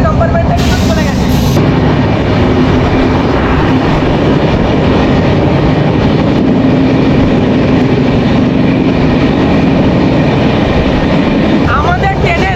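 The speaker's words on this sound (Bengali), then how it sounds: "এই মুহূর্তে 123 কিন্তু স্পিডে ট্রেন কিন্তু দৌড়াচ্ছে" From inside a coach, the Tamralipta Express runs at about 123 km/h on the Howrah to Digha line, a loud continuous roar of wheels and carriages with rhythmic clatter and a brief higher hiss near the start.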